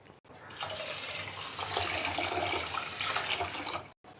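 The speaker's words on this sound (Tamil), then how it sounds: "இப்போ இதை தண்ணி ஊற்றி நம்ம ஊற வச்சிடலாம்" Water pours steadily from close by over washed rice in a vessel to soak it for village-style appam batter, a continuous splashing gush of about four seconds that starts and stops abruptly.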